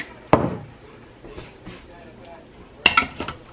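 Spaghetti and sauce stirred in an Instant Pot, with a couple of sharp utensil knocks against the pot and soft scraping between them, close and fairly quiet.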